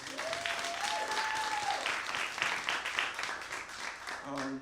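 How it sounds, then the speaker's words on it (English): Audience applause for poets and comedians at the Speak Your Truth 2022 show, steady and full from a crowd, with a whistle or cheer near the start and talk fading in over the claps at the end. "give them a round of applause"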